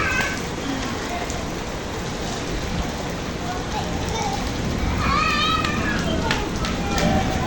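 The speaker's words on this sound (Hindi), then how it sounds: "तेज बारिश।" Heavy rain pours as a dense, steady wash of noise, with voices talking over it.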